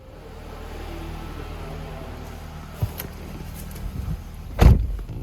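Power windows on a 2011 Nissan Rogue S running, a low motor hum under steady cabin rumble, then a brief thud and a short sharp knock near the end.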